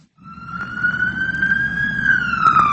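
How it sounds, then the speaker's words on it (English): An ambulance siren wails steadily and loudly, its tone sliding slowly upward then easing back, close by with a low road rumble underneath and no talk. "Yes, it's the sound of an ambulance."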